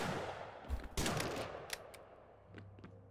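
A single gunshot cracks out in the Lovecraft's Untold Stories game, a fairly quiet sharp report followed by a few faint clicks and ambient noise.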